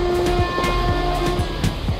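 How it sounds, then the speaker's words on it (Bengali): Passenger train running on the way from Kolkata to Tarapith, heard from inside the carriage: a steady loud rumble with a rhythmic clickety-clack of wheels over rail joints, plus a faint tonal hum. "দেখো বাইরে একদম পুরো রানিং ট্রেন চলছে"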